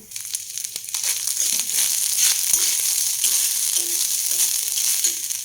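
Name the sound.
grated coconut frying and sizzling in a pan with asafoetida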